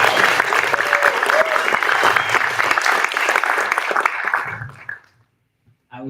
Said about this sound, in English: So let's give a warm applause for this presentation.